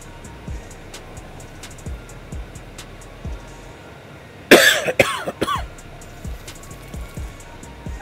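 A short burst of harsh coughing, two or three close hacks in quick succession, breaking through quiet background hum and faint repeated knocks.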